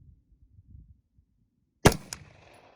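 A single sharp crack from a DDM4 V7 Pro SPR rifle on a shooting range, loud and close, followed by a quick echo and fading reverberation after a stretch of near silence.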